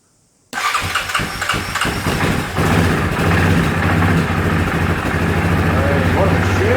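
A Yamaha Grizzly 450 4x4 ATV with flood water damage starts on mid-choke: a close, loud cranking rattle catches after a couple of seconds and settles into a steady, rough idle.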